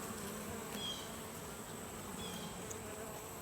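Honey bees buzzing at an open Layens hive during an inspection, a steady, soft, dense hum of many bees close by with no talk.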